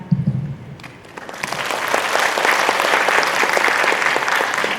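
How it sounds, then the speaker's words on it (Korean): An audience at an admissions briefing event breaks into applause that starts after a brief voice and swells into sustained, dense clapping from a large crowd filling the hall. "다시 한 번 더 큰 박수 부탁드리겠습니다"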